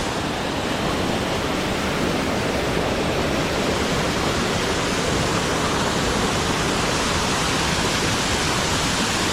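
Forceful waterfall at Rampa Waterfalls in Andhra Pradesh, a loud, steady, broadband roar of falling water that holds unbroken throughout with no voices.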